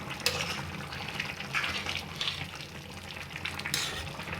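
A pot of Manipuri-style vegetable soup at a full boil, bubbling and sputtering steadily at close range with a few sharper pops, fairly quiet and with no talk.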